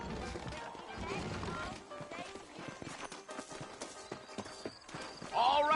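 Horse hooves clip-clop at a steady trot under background music and ambient noise, with a brief whinny near the end, in the video game Red Dead Redemption.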